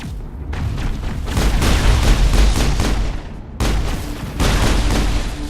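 Weapon firing in the Mass Effect video game: loud bursts of rapid gunfire with booming impacts, briefly stopping partway before the shooting resumes just as heavily.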